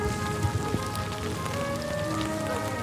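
Steady rain falls outdoors in a garden, a dense continuous hiss of drops striking surfaces with a few sharper individual drips and no speech.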